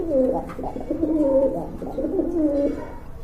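A domestic pigeon coos close by in a soft, rolling series of repeated low calls over about three seconds, with no other sounds.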